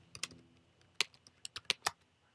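A company name is typed on a computer keyboard in a quiet room: faint, irregular key clicks, a few sharper taps standing out, with brief pauses between them.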